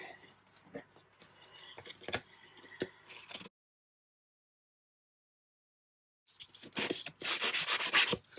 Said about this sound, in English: Just give her a little sand. Maybe sand the picture just a little bit.